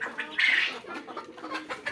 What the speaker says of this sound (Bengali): এগুলা অরিজিনাল মিশরীয় ফার্মি মুরগি।